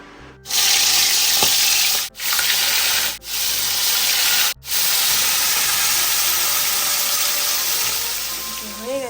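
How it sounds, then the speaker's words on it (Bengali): Prawns fry in hot oil with a loud, continuous sizzle and hiss, close up. The sound breaks off briefly a few times before settling into a steady crackle. "হয়ে গেছে ভাজা চিংড়ি মাছ, সবগুলো ভেজে নিয়েছি"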